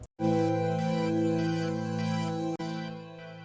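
A sustained VST software synthesizer pad holds one rich, bright chord for about three seconds, with a brief cut near the end before it resumes.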